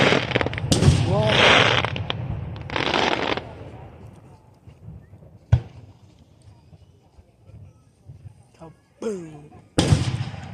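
Fourth of July fireworks at Martinez Marina, California, heard from a distance as booms and crackling bursts. A sharp bang lands near the middle and another burst comes at the end, with people talking nearby throughout.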